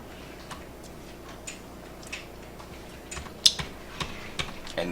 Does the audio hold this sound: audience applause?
no